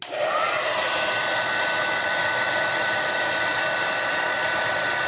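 A hair dryer runs steadily and loudly for about five seconds, heating moustache wax on a brush during styling, a continuous close whoosh with no talking.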